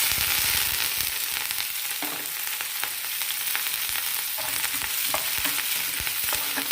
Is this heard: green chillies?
yes